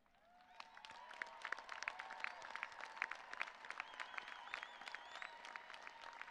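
A commencement crowd claps for graduating honors students at a university ceremony, heard as a steady, moderately distant round of applause with scattered sharp individual claps and light crowd noise.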